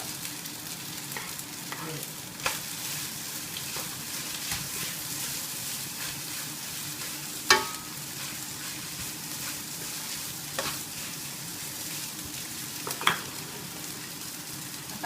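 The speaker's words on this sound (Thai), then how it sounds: "ใส่หอมใหญ่ก่อนนะ เพราะหอมใหญ่เป็นอะไรที่สุกช้ากว่าใครก็เพื่อ" Onion frying in a pan for prawn fried rice, giving a steady low sizzle with occasional sharp clinks and scrapes of stirring, moderately quiet and without talk.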